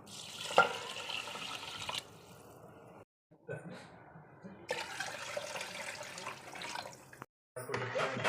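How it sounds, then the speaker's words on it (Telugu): Water splashes and trickles into a pot of chicken biryani in several bursts separated by short pauses, recorded close and fairly faint. "ఇప్పుడు వాటర్ పోసుకోవాలి ఒకటికి రెండు"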